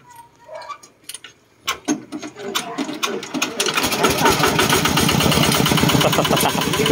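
A homemade tractor engine cranks with sputtering bursts, then catches and settles into a fast, even mechanical chugging idle, close and loud, with someone talking briefly before it starts.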